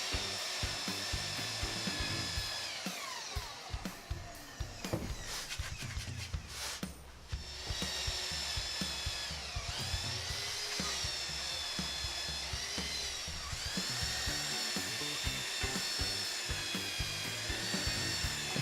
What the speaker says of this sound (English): I'm going to use a belt sander to start with because it's nice and aggressive